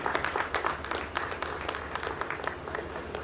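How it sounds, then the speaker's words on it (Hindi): A crowd at a music video launch event welcomes a guest with applause, individual claps distinct and rhythmic over a low background hum, moderately loud and steady. "जोरदार तालियों से इस्तकबाल करें।"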